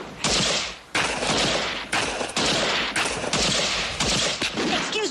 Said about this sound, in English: There are wicked people out there shooting real bullets at us.